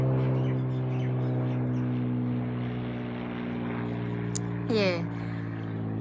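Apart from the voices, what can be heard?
airplane flying overhead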